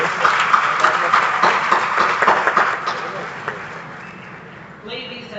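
Audience applause honoring parents at a school graduation ceremony: dense, sustained clapping from a crowd, loud at first and gradually thinning out toward the end, with a voice starting to speak over the last moments.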